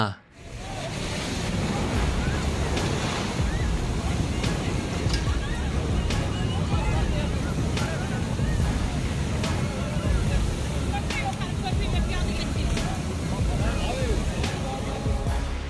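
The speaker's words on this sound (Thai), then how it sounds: "ทำให้เกิดเป็นคลื่นน้ำขนาดใหญ่ที่ไหลไปตามแม่น้ำในเมือง ซึ่งก็มีทั้งน้ำ โคลน และก็เศษซากต่าง ๆ ที่มันพัดผ่านมา" A flash flood surges down a river through a town, a large wave of water carrying mud and debris, producing a loud, continuous roaring rush with wind buffeting the microphone and faint voices in the background.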